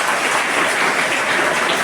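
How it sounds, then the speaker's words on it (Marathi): Steady applause from an audience at a felicitation ceremony for successful scholarship-exam students, honouring the parents, a dense even wash of many hands clapping throughout with no voices on top. "त्यांच्यासाठी एकदा टाळ्या होऊन जाऊ दे पालकांसाठी"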